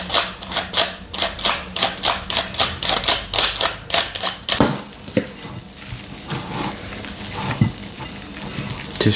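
Dough of flour and baking powder being kneaded and mixed by hand, a close rhythmic series of squishy slapping pulses that later becomes looser, irregular squelching and patting.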